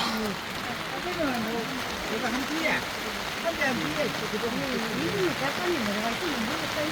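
Heavy rain falls in a steady, dense hiss at an outdoor national cemetery, with someone talking over it throughout.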